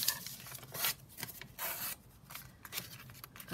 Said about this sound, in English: I'm going to cut it down to a sort of size that we can use.